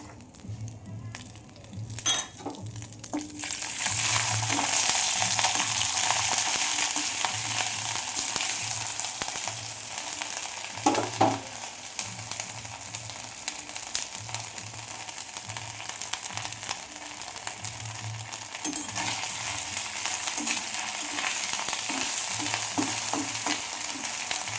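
Ginger frying in a pan, giving a bright, even sizzle that swells after a few seconds and holds steady, with occasional scrapes and clinks from stirring, close up and with no voices.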